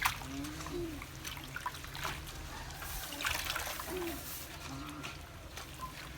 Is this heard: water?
yes